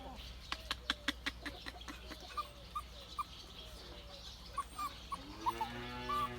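Chickens and a recently injured rooster in a home garden give repeated sharp clucks and short calls, close by, with a rising crow-like cry near the end over a low background hum.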